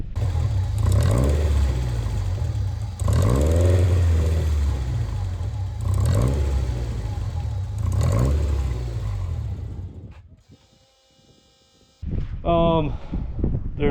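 A Megasquirt-powered VW ABA 2.0 engine revs repeatedly while driving, loud rising surges under a voice, then briefly quiets before picking up again.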